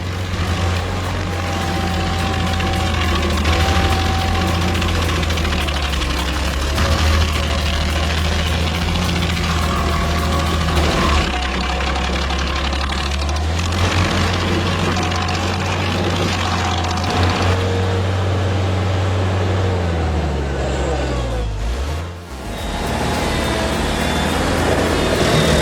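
Stump grinder spinning at 3,000 RPM into a 40-inch tree stump, a loud sustained engine drone with steady low hum and grinding noise, dipping briefly near the end before resuming.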